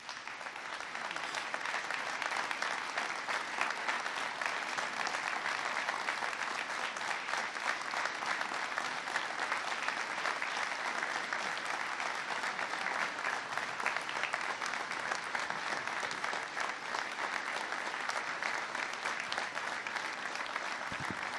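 Sustained applause from an audience at a presidential press conference, dense steady clapping from many hands that continues unbroken for about twenty seconds, with no one speaking over it.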